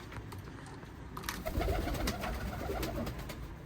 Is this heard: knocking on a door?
no